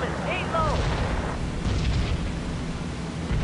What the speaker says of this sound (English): Oh, and flak started up again.